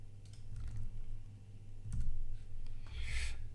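Typing text on a computer keyboard, with soft, scattered clicks over a steady low hum, close and quiet.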